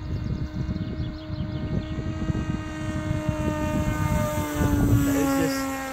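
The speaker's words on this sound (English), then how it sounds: "I'll bring it past for flyby." A 1.5 m RC flying wing running an APM autopilot on an underpowered 3-cell setup passes by, its propeller drone holding steady tones that rise in pitch near the end as it nears, loud and continuous.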